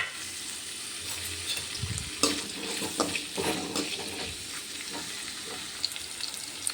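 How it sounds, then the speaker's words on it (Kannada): Capsicum and onion frying in oil for paneer butter masala: a soft sizzle with a cluster of louder stirring scrapes and clatters in the middle, then quieter crackling. "ಕ್ಯಾಪ್ಸಿಕಮ್ ಮತ್ತು ಈರುಳ್ಳಿನ ಸ್ವಲ್ಪ ಹೊತ್ತು ಫ್ರೈ ಮಾಡ್ಕೊಳ್ಳೋಣ"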